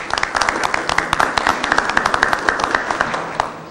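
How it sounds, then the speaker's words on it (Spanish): Scattered applause from a crowd at a gathering of traditional alabaos and gualíes singing, irregular clapping that keeps going for a few seconds, with faint voices mixed underneath. "Vamos a pedir un aplauso para él."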